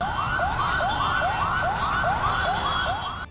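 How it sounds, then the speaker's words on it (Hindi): A fire engine siren arrives at a burning car on an Indian roadside, sounding as loud, rapid, repeating rising wails, about eight sweeps in quick succession, close and dominant. "इस हादसे की जानकारी मिलते ही दमकल की एक गाड़ी वहां पहुंच गई"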